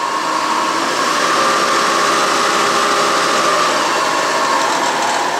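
A Delta variable-speed drill press in a workshop starts up and runs steadily, a loud continuous motor whir and hum with belt-driven mechanical whine holding throughout, no talking.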